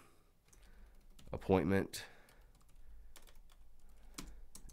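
Computer keyboard typing while entering a field name in a custom fields setup, a quick burst of dense, close keystrokes mixed with a spoken voice, then quieter talk continuing.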